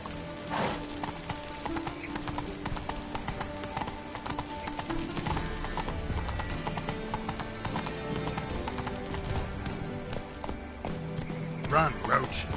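Roach, Geralt's horse in The Witcher 3, gallops with steady rhythmic hoof clip-clop under game music and ambience, fairly close and continuous, with a voice speaking over it.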